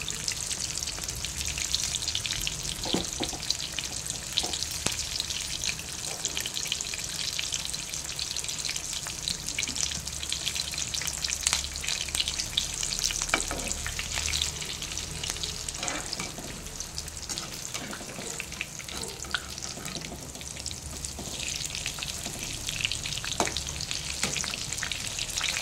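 Mirchi bajji, chili fritters, fry in hot oil with a dense, continuous bubbling sizzle that stays steady and close throughout, broken only by faint pops and occasional light clinks, and no voices.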